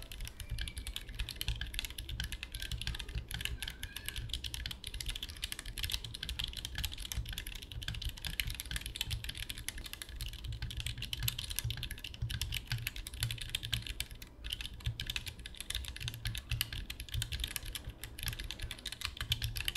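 Steady, continuous typing on a mechanical keyboard fitted with dampener foam, muted and soft clacks running throughout at a quiet level with no talking.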